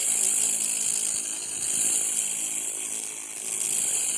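A laser cleaner strips rust from an old lawnmower blade, giving a steady, high-pitched buzzing hiss that holds nearly unchanged throughout, fairly loud and alone with no talk.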